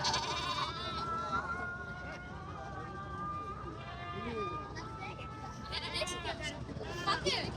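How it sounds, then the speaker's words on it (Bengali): Goats bleat repeatedly at a busy cattle market in Fatullah, Narayanganj, their cries rising over a constant crowd babble and talk. "এখানে ছাগলের লাইন আপ ছাগল উঠছে সব"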